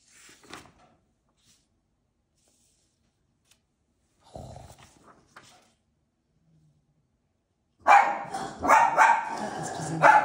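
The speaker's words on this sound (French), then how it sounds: "mes chiennes recommençaient à aboyer" Pet dogs bark from a distance, faint and scattered at first, then a loud, close burst of overlapping barking erupts near the end inside a home.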